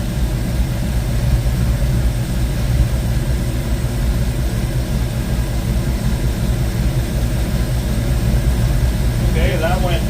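A 1972 Ford Mustang Mach 1 engine idles with a loud, steady low rumble close by, broken only by a brief faint tonal sound near the end.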